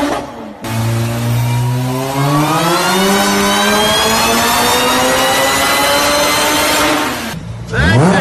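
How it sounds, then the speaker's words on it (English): A Honda Civic's supercharger whines as it accelerates hard, a loud rising mechanical pitch layered over the engine roar that climbs for several seconds before easing off. "here's some Civic supercharger whine"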